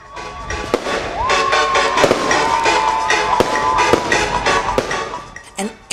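Fireworks explode over a beach resort during an Easter evening show, a dense run of loud, sharp bangs and crackling bursts, with a faint sustained tone and brief voices beneath.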